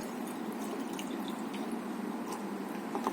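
Soda from a Kinley soda bottle poured out of a decanter into an old-fashioned glass, a steady, soft liquid stream with faint drips and fizz, continuous and close, no voices.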